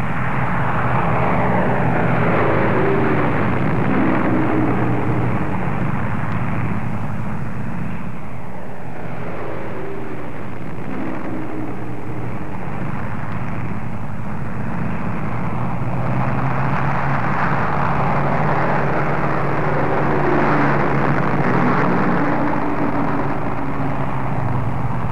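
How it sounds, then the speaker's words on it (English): Several B-17 Flying Fortress four-engine bombers drone steadily overhead on the way back to base, a loud continuous piston-engine roar with slowly swelling and fading pulses, heard alone. "With their mission complete, the flying fortresses returned to their bases in England"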